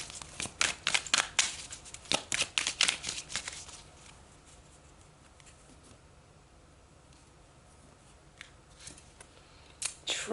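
Tarot cards are shuffled and pulled, with a rapid run of close, crisp riffling snaps for a few seconds, then near quiet, then a few soft card flicks at the end.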